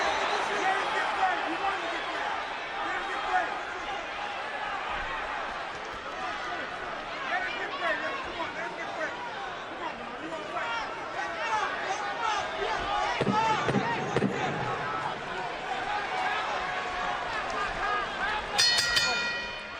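A boxing arena crowd roars steadily and densely throughout the Kovalev–Hopkins fight, a continuous wall of cheering with a commentator talking over it.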